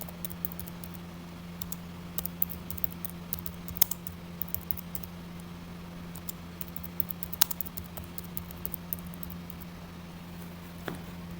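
Light, scattered keystrokes on a computer keyboard while SQL code is written, soft and sparse over a steady low electrical hum, with no one speaking.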